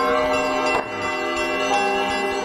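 Church bells peal in a steady, ringing wash to welcome a wonder-working icon at a village church, with sustained overlapping tones and a few fresh strikes, loud and reverberant.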